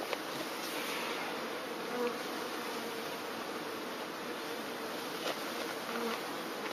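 Honey bees are shaken from a package into a hive in Donegal. They make a steady, even droning buzz that carries on throughout, calm and moderately loud, with only slight swells.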